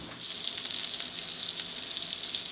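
A salmon fillet laid skin side down in a hot pan gives a bright, steady sizzle that starts suddenly and keeps going, close by and fairly loud, with no talking.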